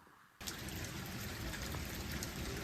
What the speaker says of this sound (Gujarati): જોરોથી પવનની સાથે વરસાદ ચાલુ થઈ ગયો